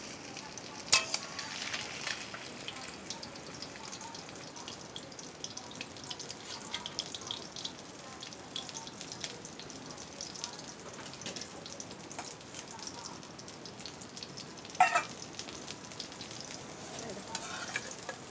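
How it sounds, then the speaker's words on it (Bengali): Parshe fish fry in a pan with a steady, faint crackling sizzle throughout, broken by a couple of brief sharper clicks. "মাছগুলো ভাজা হয়ে গেছে"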